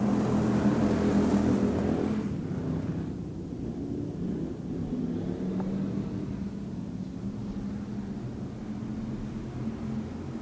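Pack of IMCA hobby stock race cars rumbling into the start of a race at Off Road Speedway, a steady broad engine roar from the field, loudest at first then settling into a continuous distant drone.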